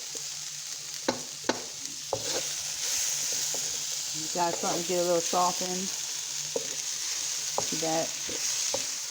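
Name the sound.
onions stir-frying in a pan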